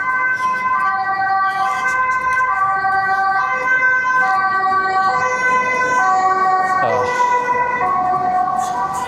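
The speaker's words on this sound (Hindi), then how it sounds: "इस तरह के सायरन्स आपको हर वक्त यहाँ पे सुनते रहते हैं।" Emergency vehicle sirens wail along a city street in the Netherlands, a steady, loud two-tone siren with harmonics rising and falling over ongoing traffic rumble.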